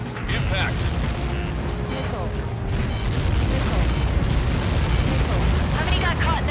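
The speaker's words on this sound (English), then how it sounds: "How many got caught in that explosion?" A massive explosion booms in the Ace Combat 7 flight game, a sustained, rumbling roar with crackling debris and jet noise layered throughout, loud and continuous.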